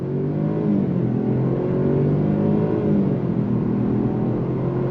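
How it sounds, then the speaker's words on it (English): A 2024 Jaguar XF P300 sedan with a four-cylinder turbo engine and all-wheel drive accelerating hard on throttle, giving a steady, loud engine drone with rising harmonics that holds for the whole stretch, heard from inside the car with no talk. "we're gonna go on throttle right away."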